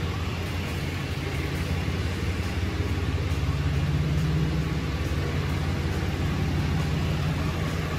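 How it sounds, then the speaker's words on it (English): Steady low rumble of an idling stock 2017 Ram 3500 Mega Cab pickup truck engine, constant and unchanging throughout, heard close with no talking. "I'll just jump out so you can hear the truck running a little bit."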